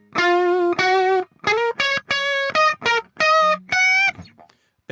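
Distorted electric guitar runs through a Mesa Mark IV amp model in Helix Native, playing short sustained notes and phrases with small gaps between them, loud and close, then ending in silence.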